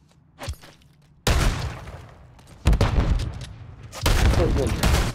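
Haymaker shotgun firing in a first-person shooter game, three heavy blasts spaced about a second and a half apart, each loud and booming with a long ringing tail, after a small thump at the start.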